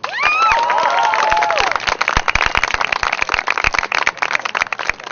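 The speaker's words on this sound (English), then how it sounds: "I think we should give Dana another round of applause" An audience claps and cheers for Dana, a loud, steady round of applause with whoops at the start, then thinning to scattered, uneven claps.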